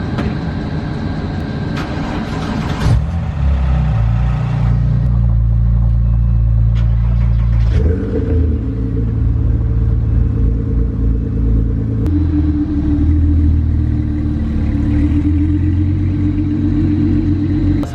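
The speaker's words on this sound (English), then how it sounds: "let's go take the Boxster out for the spin" A Porsche 987 Boxster's engine starts up nearby and settles into a loud, deep rumbling idle, with a change in pitch partway through as it keeps running steadily, no voices.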